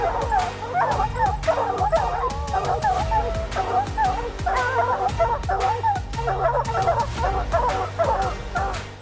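Several dogs bark and yip continuously in a dense, busy chorus during a bear hunt, with whimpers mixed in and a low rumble underneath; the barking is loud and close throughout.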